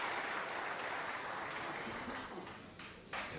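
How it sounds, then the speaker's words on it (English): Distant applause from a neighbouring table in a snooker hall at the World Snooker Championship, a broad, steady patter of clapping that gradually thins and fades over a few seconds. "Massive round of applause on the other table."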